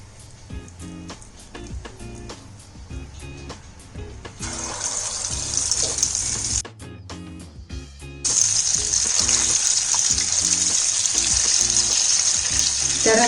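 Small paneer and corn pakodas fry in hot oil, a loud continuous sizzle and crackle that jumps in intensity as more batter drops into the oil, with brief clinks of a utensil.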